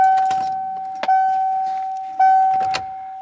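Keys jangle at the ignition of a 1994 Ford F150, with a couple of sharp clinks against a steady warning-chime tone, close and clear, and no talk.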